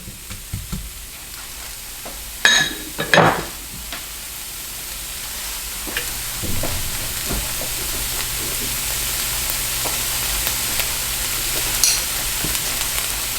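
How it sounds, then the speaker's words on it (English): Vegetables and plant-based sausage sauté in a preheated pan, a steady sizzle running throughout with a few sharp utensil clatters and scrapes near the start. "We're just going to saute these. We're also going to give the plant-based sausage a quick browning."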